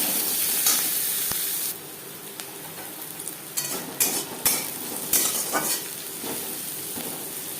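Chopped onion fries in hot oil with a constant sizzle, broken by sharp spatula taps and scraping stirs that come in clusters.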